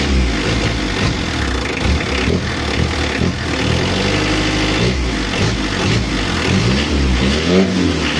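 Mitsubishi L300 engine running while driving, fitted with an upgraded final gear ratio and a 12 mm rotor head; a loud, steady mid-pitched drone with cabin rumble, engine note rising and falling slightly.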